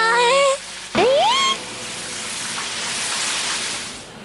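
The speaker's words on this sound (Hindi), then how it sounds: "लेकिन इस रिमझिम बारिश से कुछ नहीं होगा।" Light drizzling rain in a cartoon setting makes a soft, steady hiss that swells gently after brief sliding whistle-like tones at the start.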